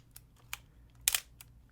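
An old 35 millimeter film camera being handled, a few faint close mechanical clicks followed by one louder, crisp shutter-like snap, then a last small click, in a quiet room.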